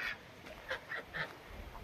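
Geese and ducks in a farmyard pen give three or four short, faint honks and quacks in quick succession against a quiet background.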